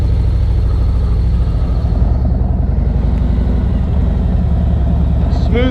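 A motorcycle engine holds steady throttle during a riding training session, a close, continuous low rumble with constant harmonic drone and even loudness throughout, with a voice talking over it.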